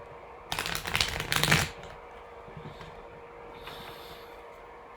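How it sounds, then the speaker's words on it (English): Tarot cards riffle-shuffled in a quick burst of fluttering snaps lasting about a second, then quiet with faint room noise. "One more shuffle."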